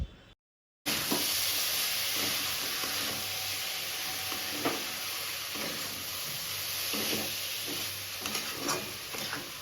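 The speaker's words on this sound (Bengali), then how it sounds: "চালটা ভালো করে ভেজে নিতে হবে মশলা দিয়ে" Steady frying sizzle and hiss of rice frying with spices in a pot, with occasional scraping stirs, close and continuous, no voices.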